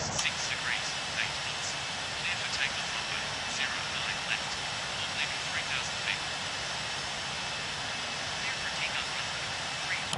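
An airliner taking off from a London airport, heard as a steady broad roar of jet engines with scattered short chirps over it, while a voice speaks through the noise.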